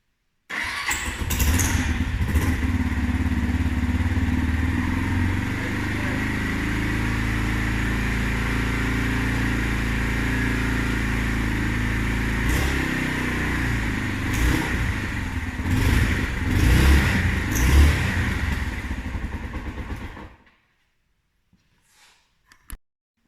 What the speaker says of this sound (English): I want to fire the bike up first, make sure it starts and runs okay